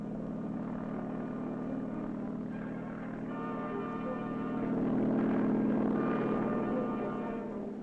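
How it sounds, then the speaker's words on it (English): A carrier helicopter working with a sub-hunting team, its rotor and engine giving a steady droning hum that swells slightly toward the middle, continuous with no speech. "Carrier helicopters also play an important role on the sub-hunting team."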